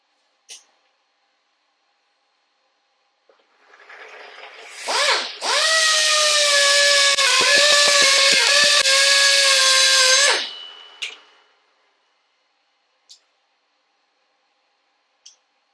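A power drill runs in reverse to deburr drilled holes in a brake disc, whirring steadily for about five seconds with a rising start and a fading stop, followed by a few faint clicks.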